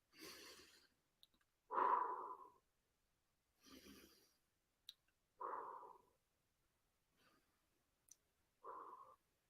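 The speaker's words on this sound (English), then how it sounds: "Take 3 long, deep breaths, maybe our hot chocolate breaths." Three long, deep breaths, each a slow inhale followed by a soft airy exhale, close and quiet with pauses between and no talking.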